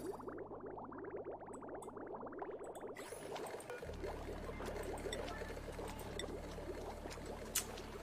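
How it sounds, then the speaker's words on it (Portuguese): Water gushes and streams through the wrong spot in the Oxygen Not Included video game: a steady, close pouring rush that swells after a few seconds and runs on continuously to the end. "Entrando água errada aqui"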